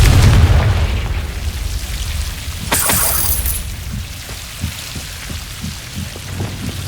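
A Confringo blasting spell in Hogwarts Legacy bursts with a sharp crackling blast, followed by a low rumble over steady game ambience and scattered soft thuds.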